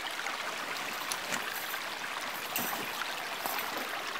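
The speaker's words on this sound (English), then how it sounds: "Adam just filtered some drinking water out of Herbert Brook" Herbert Brook, a mountain brook, flows with a steady, soft rush and faint trickling, heard alone at low level with no voices.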